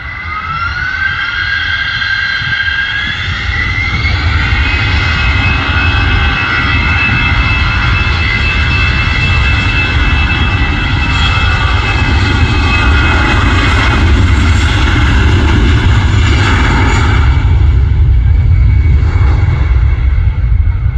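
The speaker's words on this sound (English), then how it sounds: "The A330 uses a lot of runway, that's using a lot of runway as well." Airbus A330 jet airliner on the runway at Manchester Airport on a hot day, a loud steady engine roar that swells slightly toward the end, heard alone without voices.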